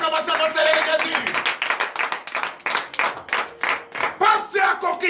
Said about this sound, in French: veuillez vous lever, donnez l'acclamation au Seigneur Jésus